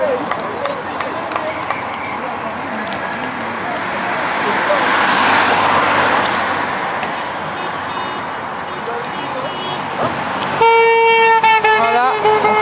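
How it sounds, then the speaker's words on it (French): Car horns honk repeatedly amid roadway traffic as a freedom convoy departs Rennes, France, with a long sustained horn blast near the end over general street noise and voices. "Voilà, en soutien des klaxons."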